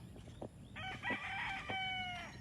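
A rooster on a chicken farm in the Philippines crows once, loud and close and lasting over a second, with a few short clucks just before it.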